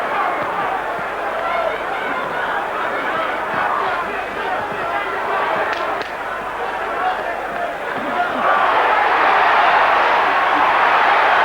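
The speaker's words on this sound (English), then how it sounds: "they really cheer that punch" A boxing arena crowd roars and cheers after a punch in the Holyfield–Bowe heavyweight title rematch, a dense, loud, sustained wall of voices that swells near the end while a commentator talks over it.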